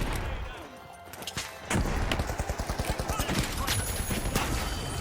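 Rapid gunfire and a grenade blast in a video game: a loud thump gives way to a fast rattling burst of shots, heard under players talking.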